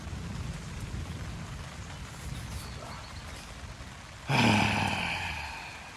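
Steady rain patters on a tarp and tent at a Boundary Waters wilderness campsite, a constant soft hiss, broken near the end by a sudden louder burst with a brief voiced sound.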